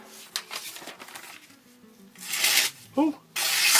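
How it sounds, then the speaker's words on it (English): Wet and dry sandpaper rubs against a metal blade in short scraping strokes, a few separate gritty passes with quiet pauses between, the last strokes louder and longer. "Just use the usual wet and dry paper."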